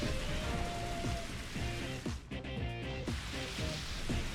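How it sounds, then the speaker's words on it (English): The Rain Dance move in the Pokémon XD video game brings a steady hiss of pouring rain, dense and constant, layered over looping game music with plucked tones. "Rain Dance."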